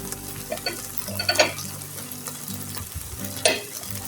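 Dried chillies fried in oil being stirred through a spicy Bengali meat and potato mash (mangsho vorta) in a pan, with a low steady sizzle and two sharp scraping stirs of the spoon.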